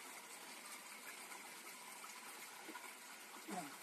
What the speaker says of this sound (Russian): Я думаю, тут течет священная вода.